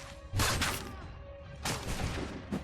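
Musket shots in Assassin's Creed 3 crack out as two loud bursts with a third short one near the end, each with a rumbling tail over a steady low in-game background.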